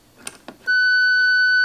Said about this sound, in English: 3A is beeping and it comes up here and says good.